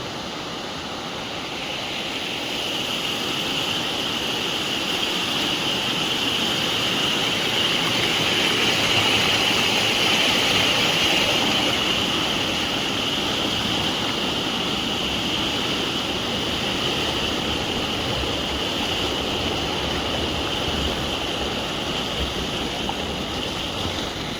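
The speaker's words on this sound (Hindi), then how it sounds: "ये देखा पानी की आवाज़ कैसे लगा थे मस्त।" Water flows in a Chhattisgarh village as a loud, steady rushing wash that carries on unbroken and fairly close throughout.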